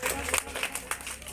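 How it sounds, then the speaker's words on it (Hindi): A village gathering on a development tour applauds to welcome the district collector, with scattered clapping from a crowd mixed with voices. "जोरदार तालियों से सभी स्वागत करेंगे जिलाधीश महोदय का।"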